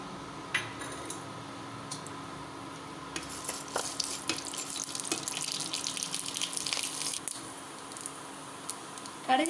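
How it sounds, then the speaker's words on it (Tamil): Mustard seeds and urad dal crackle in hot sesame oil, giving scattered sharp pops and sputters over a steady sizzling hiss, close and moderately loud, with no talking. "கடுகு வெடிச்சிருச்சு, உளுந்தம்பருப்பு செவந்தாச்சு."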